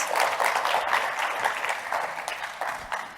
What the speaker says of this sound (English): So let's give Mary a warm round of applause